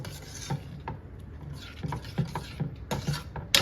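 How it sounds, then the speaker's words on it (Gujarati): Curd being stirred into a pot for Gujarati kadhi, with repeated scraping and rubbing strokes of a utensil against the vessel, close and fairly quiet, no voices. "દહીં નાખ્યા પછી આપણે પ્રોપર એને મિક્સ કરી દઈશું"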